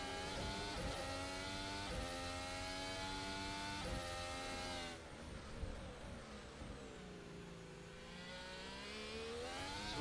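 A race car in a sim racing game laps Suzuka quickly, its engine whining at high revs with rising and falling pitch through gear changes, steady and prominent with no talk.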